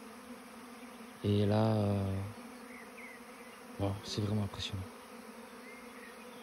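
A swarm of honey bees buzzing in a garden on a hot day: a loud, close, rich hum swells for about a second, then fades, with a softer burst later and a person speaking briefly.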